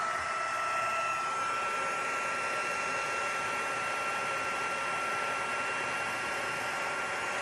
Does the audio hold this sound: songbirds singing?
no